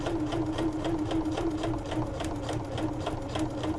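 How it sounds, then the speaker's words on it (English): A sewing machine stitching along a line on a foundation-pieced star quilt block, a steady rapid mechanical whir with a fast regular needle rhythm, close and loud. "I'm going to drop my needle, and then I am going to sew along that line."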